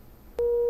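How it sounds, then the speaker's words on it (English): A 500 Hz test tone from an audio generator switches on abruptly after a moment of low hiss, then holds steady and loud. "500 hertz"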